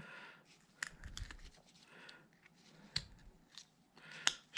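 Carving knife shaving and stop-cutting wood for a small Christmas tree ornament: quiet, close, irregular scrapes and crisp snicks in short bursts, with brief pauses between cuts.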